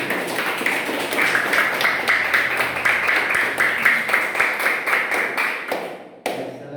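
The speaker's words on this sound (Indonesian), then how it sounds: "Ya, kasih tepuk tangan." A group claps hands together in sustained, fairly loud applause with a quick rhythmic beat, ending with a single sharp thump.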